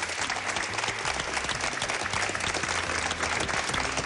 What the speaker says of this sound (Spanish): Una fuerte ovación para ella